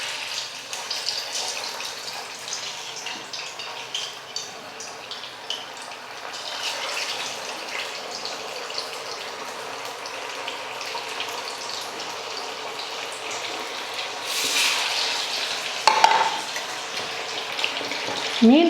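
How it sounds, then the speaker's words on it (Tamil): Tamarind-marinated fish fries in hot oil in a kadai, giving a steady, close sizzling hiss that flares louder near the end, with a brief clatter. "புளிப்பு எல்லாம் மீனில் நல்லா ஊறி வந்ததுக்கப்புறம் நம்ம எண்ணெயில் பொரிச்சு எடுத்துக்கலாம்"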